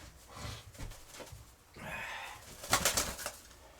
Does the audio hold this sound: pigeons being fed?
yes